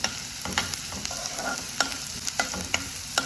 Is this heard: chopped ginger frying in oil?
yes